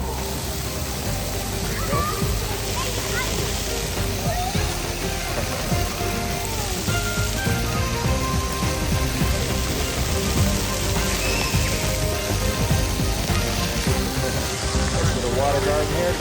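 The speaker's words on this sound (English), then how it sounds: "Water garden here to cool off" A water garden fountain in downtown Denver splashes continuously on a warm day, a dense, steady patter like heavy rain, with faint background voices and city noise.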